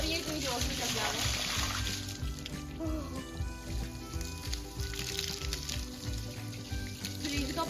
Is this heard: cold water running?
yes